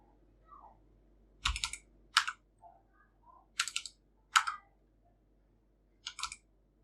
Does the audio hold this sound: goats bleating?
no